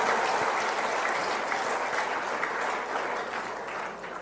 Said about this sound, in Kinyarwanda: Nukuri mureke twongere dukomere amashyi Imana yacu.